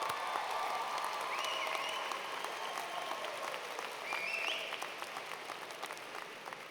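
A large audience at a university commencement ceremony applauds in sustained, dense clapping that fades slightly toward the end, heard at a distance in a big hall, with no voices over it.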